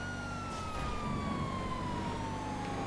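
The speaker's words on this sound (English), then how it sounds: "it's a police car." Police car siren from the GTA FiveM racing game, a steady rising-and-falling wail that runs through the whole stretch over a continuous low engine and road rumble, fairly loud and alone without talk.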